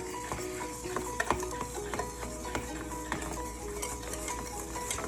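Dry spices, including ground coriander, being stirred together in a bowl for fried chicken seasoning, with soft scraping and light clinking strokes repeating steadily at low volume.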